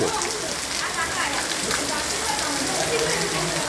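A downpour drums relentlessly over waterlogged streets in Wankaner, Gujarat, a thick, even roar of falling water that stays loud and unbroken throughout.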